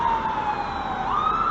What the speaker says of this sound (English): you can hear they got a siren going on now